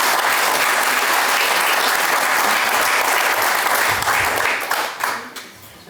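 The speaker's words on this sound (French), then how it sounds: "je pense que vous pouvez les applaudir" Audience applause at a municipal New Year's greetings ceremony in a French village hall, a dense steady round of clapping that holds loud for several seconds, then thins and fades toward the end.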